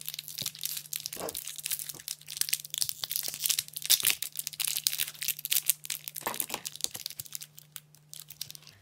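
A block of Cernit polymer clay has its label peeled and plastic wrapper opened, making close, continuous crinkling and tearing rustles with a few sharper crunches, over a faint steady hum.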